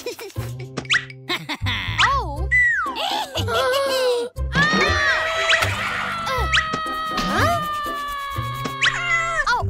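Cartoon cat meows in a children's animated show, several squeaky, bouncing high-pitched cries over bright music and effects, close and loud throughout.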